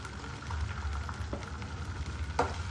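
Mustard seeds, cumin, curry leaves, green chili and asafoetida sizzle in hot oil for poha tempering, a steady crackling fry with scattered sharp pops, close and fairly quiet.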